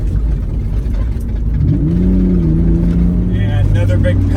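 Mitsubishi 3000 GT driven in second gear over gravel, the engine droning loudly inside the cabin, with a voice speaking over the rising tone and road rumble.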